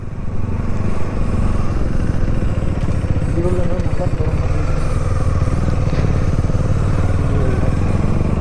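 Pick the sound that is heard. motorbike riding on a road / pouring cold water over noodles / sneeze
motorbike riding on a road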